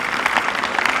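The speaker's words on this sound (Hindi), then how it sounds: "ताली बजाओ" Audience applause at a parenting seminar held in a school hall, a full second of dense, steady clapping from many hands, fairly loud with no voices over it.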